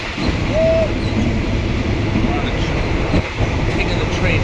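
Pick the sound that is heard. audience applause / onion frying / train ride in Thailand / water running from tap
train ride in Thailand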